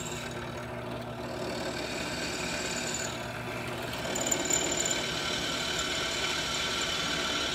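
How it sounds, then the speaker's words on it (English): A power drill boring through a light spear's head and wooden handle: a continuous mid-pitched motor whir and grinding hum that rises slightly in intensity partway through, then holds steady. "we're drilling all the way through the head and the handle, and then we're going out the other side"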